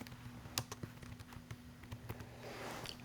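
Keys on a computer keyboard tapped in short irregular bursts while a text label for a bolt circle drawing is entered, quiet and close, over a steady low hum.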